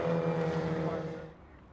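A MINI Cooper race car howls past on the Oulton Park circuit, a loud buzzing engine note that holds steady and then fades quickly as the car pulls away.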